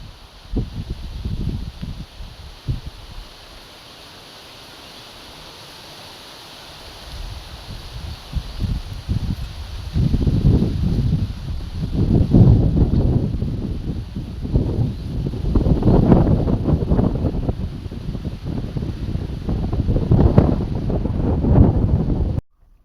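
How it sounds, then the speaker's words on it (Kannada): Strong monsoon wind gusts during heavy rain, roaring and buffeting the microphone in uneven surges that grow louder and more frequent through the second half, with no voices. "ಯಾವ ರೇಂಜ್ಗೆ ಗಾಳಿ ಬೀಸ್ತಾ ಉಂಟು"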